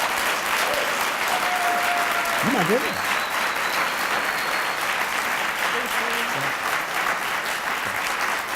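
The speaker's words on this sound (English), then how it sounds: "I just want to give her another round of applause just for standing in her space." A large audience gives a sustained round of applause at an event with a guest speaker, a dense continuous roar of clapping throughout, with a brief spoken exclamation and some voices heard beneath it.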